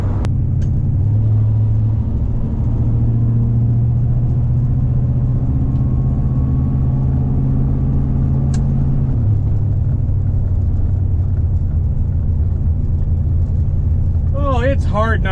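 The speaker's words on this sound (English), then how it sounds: "we're doing 55 right now, and it's just purring down the road" A car with a 440 engine cruising down the road at 55, a low steady rumbling drone that shifts pitch slightly midway, heard from inside, with a voice briefly at the end.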